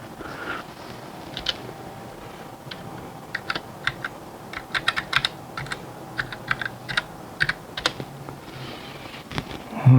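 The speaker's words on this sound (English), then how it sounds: "Let's type in my password here." A computer keyboard is struck in short bursts of close, crisp keystrokes while a password is entered, with quiet pauses between clusters over a faint steady background hum.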